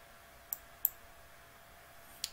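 Three crisp, isolated computer mouse clicks at uneven intervals against a quiet background, close by and with no speech.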